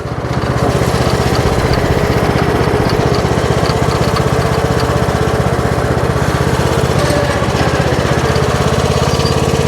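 A repaired Troy-Bilt Pony lawn tractor runs with its small engine chugging steadily and loudly up close, a continuous even drone with a rapid pulsing beat and no talk.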